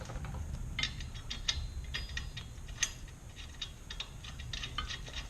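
A ratchet wrench tightens wheel spacer bolts in a star pattern on a first-generation Nissan Xterra with BORA 1-inch spacers, giving a close run of quick ratcheting clicks in uneven bursts over a low background rumble.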